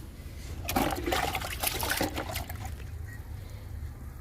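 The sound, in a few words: liquid fertilizer being poured onto a plant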